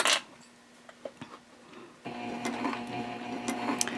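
After a few small clicks and handling taps, a sewing machine starts up halfway through, stitching the darted bottom front of a sling bag with a steady, close whirring hum and light rattling.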